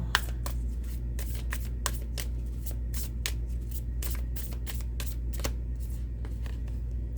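Oracle cards being shuffled by hand in quick, crisp riffling bursts, close and continuous over a low steady background hum.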